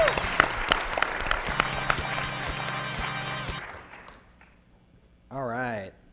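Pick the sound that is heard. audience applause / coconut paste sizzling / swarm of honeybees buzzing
audience applause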